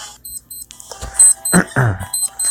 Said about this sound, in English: I woke up to the sound of my alarm.